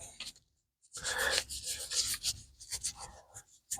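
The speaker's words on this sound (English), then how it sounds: "I'm just going to rub another coat in there" A coat of finish being rubbed by hand into a wooden piece, giving soft, continuous rasping strokes that start after a brief pause and carry on steadily at close range.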